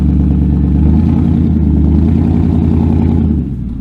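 A 2003 Ford F-150 4x4 truck engine labours steadily up a steep hill, a loud close low rumble with a clattering edge that holds for several seconds before easing off slightly near the end.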